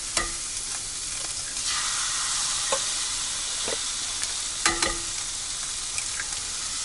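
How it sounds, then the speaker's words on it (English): Eggs cracked over ham and mushrooms in a hot pan, sizzling steadily while being stirred and scrambled, with a few sharp scraping clicks from the utensil, close and alone. "I just like to crack them right on top and then scramble it up"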